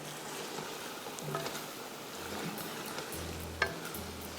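Masala with tomatoes fries in oil in a pan for Egg with Peas, giving a faint, steady low sizzle with soft stirring scrapes and one brief clink, with no talking.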